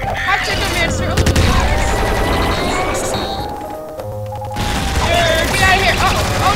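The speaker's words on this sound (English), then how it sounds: "Have a grenade launcher" Grenade launcher firing in the top-down shooter Nuclear Throne: dense, rapid bursts of thumping shots and crashing impacts over busy game music, briefly thinning out before the barrage resumes.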